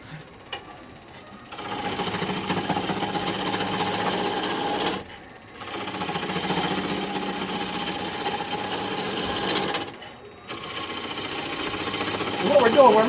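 A wood lathe turning a log into a workpiece, three long stretches of steady whirring and hissing cutting noise separated by brief pauses, close by, with a voice speaking in the quiet moments.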